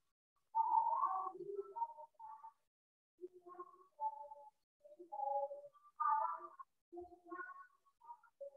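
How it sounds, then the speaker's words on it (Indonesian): A recorded bird call plays during a science quiz, giving soft, whistled, cooing phrases in a broken rhythm with short pauses, alone against silence. "Jawabannya adalah burung."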